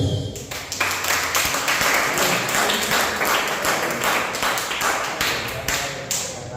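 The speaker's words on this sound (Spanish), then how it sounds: "Dale un aplauso a Dios" A church congregation claps for God during a sermon on forgiveness, a dense, steady round of applause that carries on loudly for several seconds.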